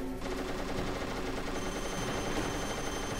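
Rapid continuous fire from a Stinger missile launcher in Metal Gear Solid, a dense, loud barrage of game weapon noise that runs steadily without pause for a few seconds.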